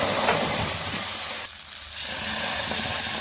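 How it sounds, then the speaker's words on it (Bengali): Gluten-free spinach batter sizzles and hisses steadily in a hot pan, a continuous close frying noise with a brief dip midway. "কড়াইটা গরম হয়ে গেছে। এবার আমি ব্যাটারটা দিয়ে দিই।"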